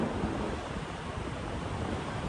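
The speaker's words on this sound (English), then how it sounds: "Got a heavy wind, so I'm going to go into the wind to make sure that I have plenty of gliding." Heavy wind roaring steadily across the microphone during a paramotor flight, a dense, loud, unbroken rush with no voices.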